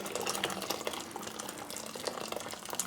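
Tap water runs steadily into a container for a Dinky toy paint-stripping soak, a continuous splashing hiss of moderate loudness with no talk.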